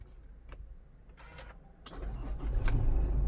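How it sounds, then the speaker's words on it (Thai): An Isuzu Mu-X 3.0 with push-button start cranks and fires up, its engine catching after a second or two of starter noise and settling into a louder, steady rumble close by. "สตาร์ทมาเสียงก็เดินกระหึ่มดีตามปกตินะคะ"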